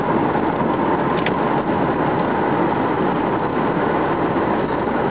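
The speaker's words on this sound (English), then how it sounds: "Vehicle accelerates nicely." A 1995 Mercedes-Benz SL320 accelerates on the road, a steady, loud broadband engine and road roar filling the whole stretch with no voices over it.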